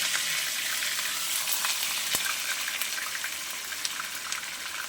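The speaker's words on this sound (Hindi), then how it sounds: "इसकी अच्छे से भुनाई कर लेंगे।" Chicken mince and chopped garlic sizzle steadily in a pan with a dense, continuous crackle, a few sharper pops and faint stirring scrapes over it, close and fairly loud.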